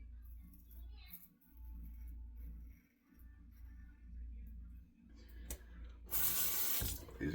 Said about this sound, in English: Please excuse the water.